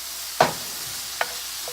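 Chicken stir-fry meat sizzles and browns in a pan, a steady close frying hiss broken by two brief scraping stirs.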